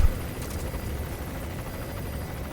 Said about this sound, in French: On attend le prochain passage de l'hélico.